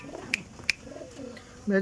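Andhra pigeons, male and female, give soft low coos with a couple of sharp clicks or flaps between them, close by, while someone talks over them.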